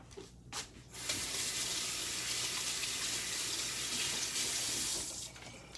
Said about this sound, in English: I'm going to go wash my fingers.